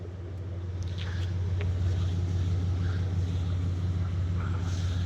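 A 1986 Chevrolet C10 pickup truck engine with dual exhaust idles steadily with a deep low rumble, heard from close by, with faint wind and light background noise.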